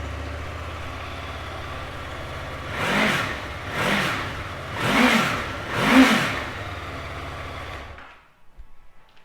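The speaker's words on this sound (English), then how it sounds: "I'll give it a start up so you can have a listen." A 2015 Honda VFR800F 800cc V4 motorcycle engine runs up through four rising, swelling revs, each roar louder than the last, close by, then shuts off abruptly into near silence.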